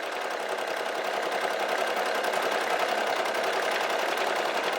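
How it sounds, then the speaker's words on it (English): A Brother SE1900 embroidery machine stitches out a flower design, giving a fast, even mechanical whirring chatter that stays steady and close throughout with no voice. "we're gonna let the SE1900 stitch out this design"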